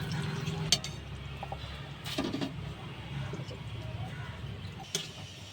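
Doi katla fish curry stirred in a pan, a soft continuous scraping and swirling with a few sharp clinks of the spoon against metal, fairly quiet and close.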